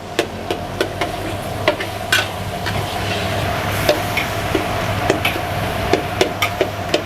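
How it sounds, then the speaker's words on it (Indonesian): Onions and garlic sautéing in a pan while a large batch of corned beef potato fritters is prepared, giving a steady sizzle under a low hum, broken by sharp utensil knocks and taps on the pan at irregular intervals. "Ya ini kita tumis dulu sampai wangi bombay-bombaynya."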